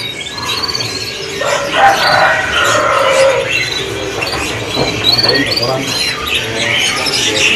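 Kenari loper canaries chirp and trill at a bird kiosk in a market, bright overlapping song under someone talking and busy background noise.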